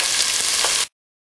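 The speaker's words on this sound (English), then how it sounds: "we're going to add our onions. Step back. And give those a really good stir, and I'm going to begin to saute them" Chopped onions sauteing in a hot pot for beef barley stew, a bright, steady sizzle, close and loud, that stops abruptly after under a second.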